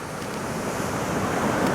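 Ocean waves break on a rocky shore near a small light tower, a steady roaring wash of surf with some wind rumble, continuous and close.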